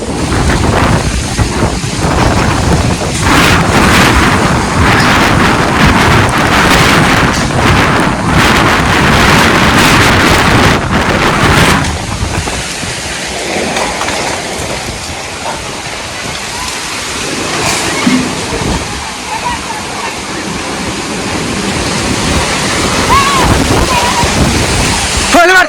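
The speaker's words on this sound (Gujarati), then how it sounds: "વરસાદ આવ્યો." Heavy rain with wind over a farm field: a loud, continuous roaring wash with microphone buffeting that eases a little midway, with people talking under it.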